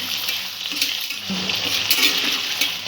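Potatoes fry in a pan with a bright, steady hiss of hot oil, broken by a few light clinks and scrapes close by.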